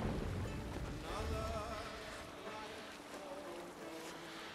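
A sailing longship at sea in Assassin's Creed Valhalla rides through a steady wash of wind and waves. The water keeps up a quiet, constant rush, and a voice can be heard talking faintly underneath.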